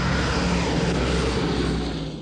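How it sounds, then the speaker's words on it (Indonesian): Droning B-17 bomber engines from the Memphis Belle film, a loud steady multi-engine propeller roar with low hum, continuous and without talk. "Dan beberapa B-17 pun sudah berhasil pulang."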